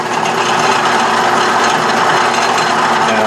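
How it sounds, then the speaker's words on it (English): A lathe in back gear turns as a 1/2 inch chucking reamer held in the tailstock chuck cuts a bore, giving a loud, steady mechanical whir and grind with no speech. "This is a 1/2 inch chucking reamer held in the tailstock chuck."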